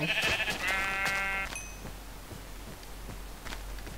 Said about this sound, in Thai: เฮ้ยแกะดำแกะดำหมูไก่เทียบไปทางนี้